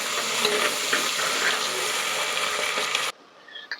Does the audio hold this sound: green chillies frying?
yes